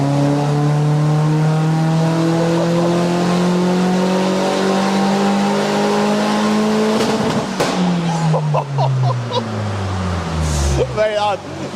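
A VW Fox GTI engine revs hard and holds a steady high drone, then drops away with crackling pops from the exhaust toward the end, loud and close throughout.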